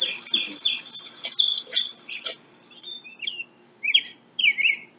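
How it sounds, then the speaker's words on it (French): An American robin in a rural maple sugar bush sings a run of bright, varied chirps and warbled phrases, fairly close and clear, in short bursts separated by quiet gaps. "Ah, ça c'est le merle."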